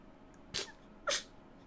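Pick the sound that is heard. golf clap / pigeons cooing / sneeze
sneeze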